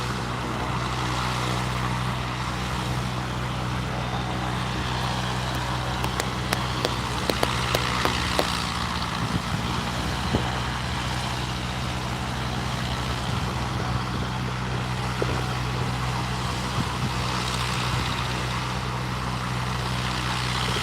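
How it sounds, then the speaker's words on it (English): A propeller-driven light aircraft takes off at Barton Aerodrome, heard as a steady engine drone with a low hum that holds evenly at a constant distance under light outdoor background noise, with no talk. "I'm going to wrap on this last plane now that it's taken off"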